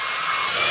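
A Simplicity S65 cordless multi-use vacuum motor runs with a steady, loud, high-pitched whirring hiss that holds constant throughout, with no voices.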